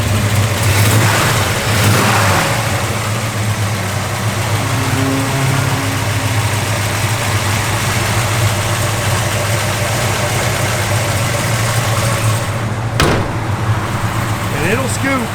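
A 1966 Chevrolet Chevelle SS engine idles with a deep, steady rumble, then gives a brief sharp rev near the end, while someone talks over it.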